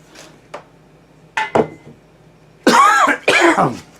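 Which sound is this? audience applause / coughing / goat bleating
coughing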